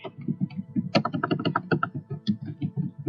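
Rapid, irregular keystrokes on a computer keyboard as a document name is typed in Word 2013, a close, steady run of light clicks with no talking.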